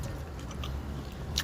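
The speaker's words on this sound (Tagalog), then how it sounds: "Ang lutong din yung lettuce ko." Close, soft chewing of crunchy fresh lettuce eaten together with mustard greens: quiet moist crunches and squishy bites at an irregular pace, with a sharper crisp snap at the end.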